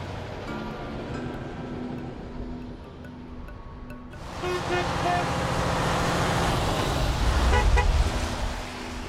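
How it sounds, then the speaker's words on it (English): Car horns honk from passing vehicles driven by factory workers at a protest outside a plant facing closure, set against steady roadway traffic noise that swells louder midway through. "these workers that are honking their horns"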